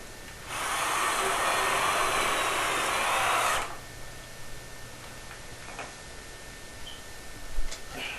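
A power drill drives screws into a joint of a water heater flue pipe in a basement, one sustained whirring burst of about three seconds up close, followed by quiet with a few faint knocks.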